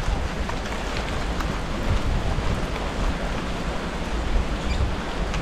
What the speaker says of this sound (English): It's raining good today, but it's nice, it's different.